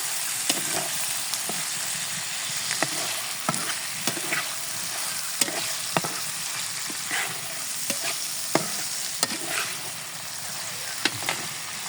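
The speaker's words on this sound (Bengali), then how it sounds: "এতে 1 মিনিটের মতো আমি নাড়াচাড়া করে মশলাগুলো" A spatula stirs spices and prawns around a sizzling pan, with irregular scraping strokes over a steady fry close by, no talking.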